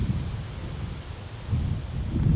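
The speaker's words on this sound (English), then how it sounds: "It's making like creepy ship sounds of the wind going through the metal." Wind gusts over the metal hull of the abandoned ship MV Alta near Cork, Ireland, a low rumbling buffeting that swells and fades close to the microphone, with no one talking.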